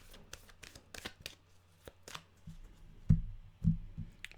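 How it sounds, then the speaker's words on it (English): Tarot cards are shuffled and drawn by hand, giving a run of quick dry riffling flicks early on, then a few duller, heavier taps and slaps as cards are set down, close and fairly quiet. "we'll pick some cards here"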